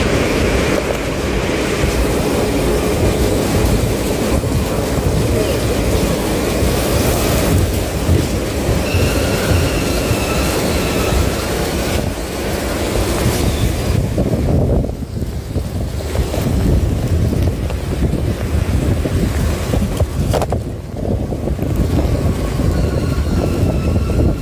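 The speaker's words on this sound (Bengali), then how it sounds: "দেখতে পাচ্ছেন কেমন বৃষ্টি হচ্ছে।" Heavy rain pours during a local train journey from Sealdah to Princep Ghat, a steady loud rush of water and wind over the rumble of the moving carriage, continuous throughout with no voices.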